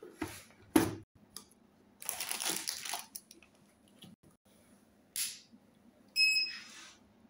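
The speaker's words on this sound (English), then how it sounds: "as there is no roll paper inside, so it is beeping" An XPrinter XP-365B thermal receipt printer beeps with no paper roll loaded: scattered handling clicks and rustles, then a short, high electronic beep near the end.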